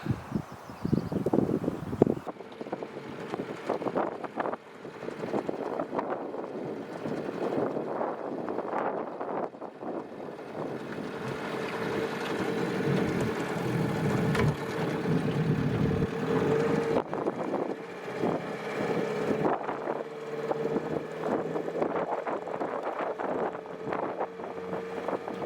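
Gusty wind outdoors beside a Minnesota lake on a fishing morning buffets the microphone in rough waves, swelling and dropping over the whole stretch, with faint rustling and a low distant hum beneath.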